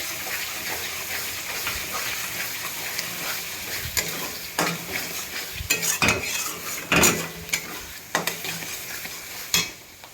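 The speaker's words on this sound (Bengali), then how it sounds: "এবার আমি পালং পিউরিটা এর মধ্যে দিয়ে দিই। সুন্দর করে এটা কষিয়ে নেব।" Spinach puree stirred and fried in a masala gravy in a pan, with steady sizzling under scattered scraping clinks of a spoon against the pan, close and fairly loud.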